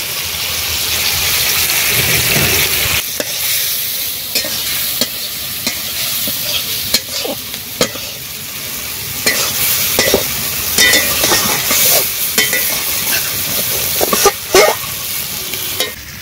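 Tomatoes and turmeric frying in a pan for a fish dish, a constant loud sizzle with repeated scraping stirs and clicks of a spatula throughout, close and without speech.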